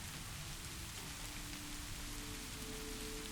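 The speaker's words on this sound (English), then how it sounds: "The rain is still with you, not outside, but all around. It taps gently upon the roof." Steady rain drums on a cabin roof, a dense, even patter of drops that holds constant and close throughout with no voices.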